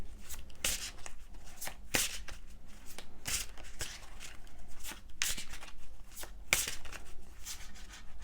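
Tarot cards are shuffled and drawn close up, with repeated crisp riffling bursts and soft slaps at an irregular pace, under faint occasional murmuring.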